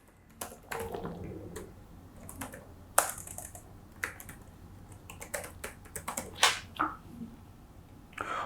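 An email address is typed on a computer keyboard, with close, crisp keystrokes tapping in irregular bursts and short pauses and no talking.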